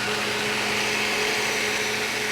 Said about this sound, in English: You get your blender.